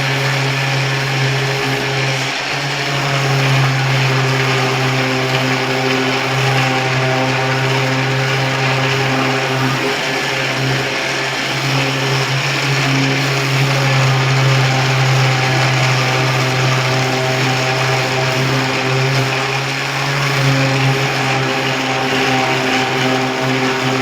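A DA dual-action sander works on a motorcycle fuel tank from a 60-year-old bike with a loud, steady motor drone and whir that holds constant throughout, with no talk.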